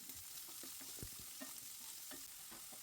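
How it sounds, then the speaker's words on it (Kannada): Onions frying in a pan with curry leaves and garlic give a soft continuous sizzle, low and steady, with occasional stirring scrapes and taps over it. "ಈರುಳ್ಳಿ ಹಾಕ್ಕೊಂಡು ಸೇಮ್ ಮತ್ತೆ ಫ್ರೈ ಮಾಡ್ಕೊಳ್ತಿದ್ದೀನಿ."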